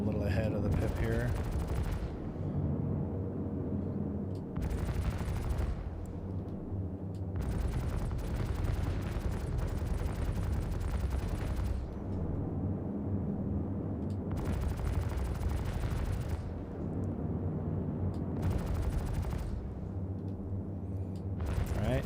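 Ship weapons fire in bursts during space combat in a video game, dense and loud, with several long volleys separated by brief pauses across the stretch.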